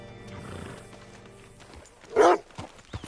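Horse in Red Dead Redemption 2: faint hoof clops and shuffling, then a loud brief snort or whinny burst, with soft rustling after and no talking.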